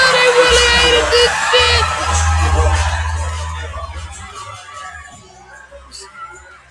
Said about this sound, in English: Do you see the reaction of the crowd?